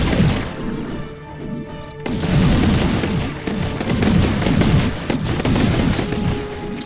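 Heavy bursts of Bowser C-41 .90 caliber armor-piercing gunfire in the video game Advent Rising, loud and close, with sustained volleys and sharp cracks running through the whole stretch.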